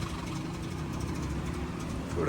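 A vintage 1976 Toyota Corolla engine, cold after standing, runs with a steady low, rumbling idle close by for the whole stretch, with a faint background murmur.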